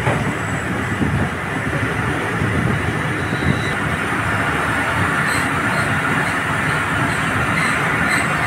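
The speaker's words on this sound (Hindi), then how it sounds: "गाइस अब ट्रेन का जो है डिपार्चर होने लगा है लियाकतपुर रेलवे स्टेशन से।" A train pulling away from Liaquatpur railway station, a steady loud rolling rumble of wheels on track with a faint wheel squeal and light clickety-clack, close by and continuous.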